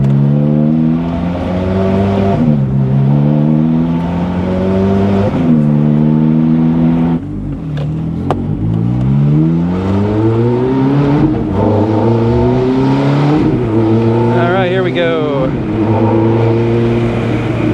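A 2005 Ferrari F430 Spider engine hums steadily, with rising harmonic tones as it revs and shifts through gears, loud and close throughout.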